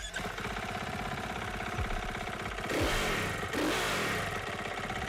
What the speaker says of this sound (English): Now that is the sound of the KTM 450 motorbike that you can actually play in the game